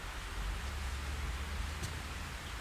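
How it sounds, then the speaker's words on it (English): Steady rain falls in the Fatal Frame 3 video game, a continuous broadband hiss that holds even and moderately loud throughout, with no voices over it. "It's raining again."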